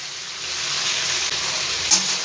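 A cumin and ginger spice paste fries in a pan after a splash of water, giving a steady, close sizzling hiss with a brief crackle near the end and no talking.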